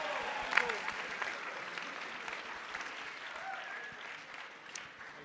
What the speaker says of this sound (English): Can we give him a huge round of applause?